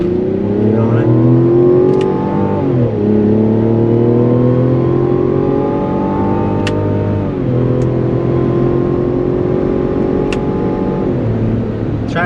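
A 2024 Mazda CX-90 SUV accelerating hard in sport mode with manual shifting, engine note climbing steadily then dropping at each upshift, repeating through several gears, loud and close inside the cabin.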